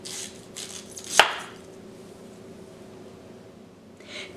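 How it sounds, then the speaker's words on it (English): A single sharp knife chop through the end of a yautía root on a cutting board, one crisp thud near the start, then quiet kitchen room tone. "With a knife, cut both ends of the yautía."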